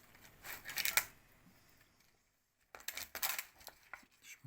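A knife cutting into puff-pastry-wrapped camembert, with crisp flaky crackles in two short bursts separated by a brief silence, close and quiet.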